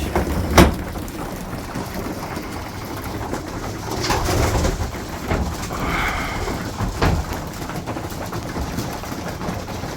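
Racing pigeons coo softly inside a loft, low murmuring calls repeating under steady background noise, with a couple of sharp knocks and rustles of birds moving about and no talk.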